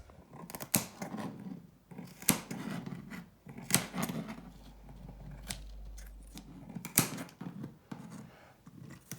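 Scissors snipping syngonium and philodendron plant stems into small cuttings for propagation, a series of sharp close crisp snips spaced irregularly over quiet handling and rustling.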